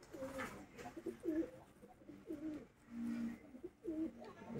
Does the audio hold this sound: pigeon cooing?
yes